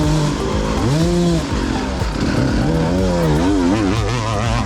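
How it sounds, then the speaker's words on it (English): A dirt bike engine screams on the rev limiter close behind during a hard enduro prologue lap, loud and continuous with wavering, bouncing pitch as the revs hold and jump against the limiter. "Always listen for guys on the rev limiter behind you."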